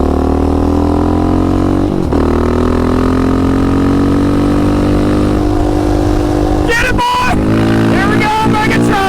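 A Yamaha Raptor 700 ATV running VP 110 race fuel accelerates hard at full throttle, its loud engine note climbing through the gears with brief dips at shifts, a rider's voice faintly mixed in.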